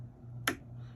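An M.2 SSD clicks as it is pushed into its motherboard slot during a PC build, a single short sharp snap close by against a low steady hum.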